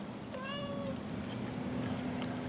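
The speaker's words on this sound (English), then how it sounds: "It's a house cat." A house cat lets out a single clear meow, close and moderately loud, over a steady low background hum.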